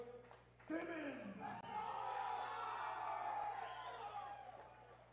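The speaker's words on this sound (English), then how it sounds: "If you can hear the crowd, Philip Simmons has a large backing here." A crowd at a kickboxing bout roars and cheers for a fighter, a sustained wash of yelling voices that swells after a moment and holds, fairly faint and distant.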